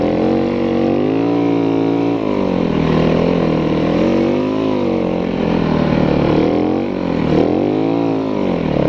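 A snow bike engine runs steadily and close, its pitch rising and falling through repeated revs, loud and alone with no talk.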